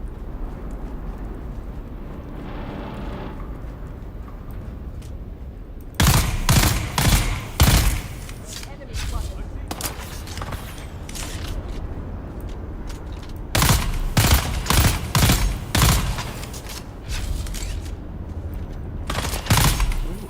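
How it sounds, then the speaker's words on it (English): Sniper rifle shots in the video game Dune Awakening come in loud sharp cracks, grouped in clusters around six and fourteen seconds with a single later shot, over a steady low ambient hum. "Actually sounds like a sniper rifle should sound."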